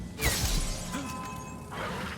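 Glass shatters with a sharp crash in the stealth game Dishonored, a guard having been taunting a dog behind the pane; a loud burst is followed by tinkling debris and a second, fainter scatter of shards.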